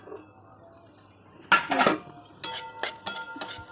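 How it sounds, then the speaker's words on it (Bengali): A metal lid lifts off a cooking pot of papaya curry with a sharp clatter near the middle, then a few lighter clinks and scrapes of cookware follow in a quiet kitchen. "ঢাকাটা খুলে নেব।"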